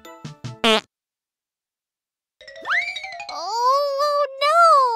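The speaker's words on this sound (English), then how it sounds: "Someone's farting and running away!" Cartoon fart sound effect in a children's animated story, a short comic burst followed by silence, then a squeaky, wobbling musical tone that bends up and down.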